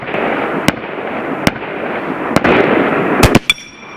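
A .50 caliber air rifle, an M50 or Dragon Claw, fires sharp cracking shots out toward steel gongs at 100 yards, each loud and close, spaced a second apart with a quick double near the end, over steady outdoor wind noise.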